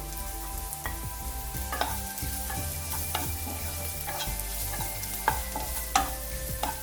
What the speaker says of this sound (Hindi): अनियंस डालने के बाद हम फ्लेम को हाई कर देंगे और इसको भी हल्का सा सौटे कर लेंगे